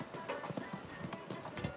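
Horse hooves clip-clopping at a steady rhythm in an outdoor show jumping arena during a CSI2* Grand Prix at Heras, Cantabria, moderately distant with ambient arena noise and no talk.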